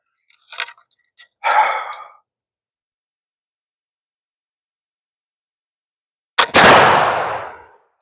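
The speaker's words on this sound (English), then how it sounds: "Let me shoot her again." A single loud black-powder shot from a 1773 Eliott Dragoon Carbine fires near the end, a sharp crack with a long rolling decay, preceded by a few brief handling clicks and knocks.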